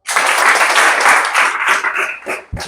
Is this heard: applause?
yes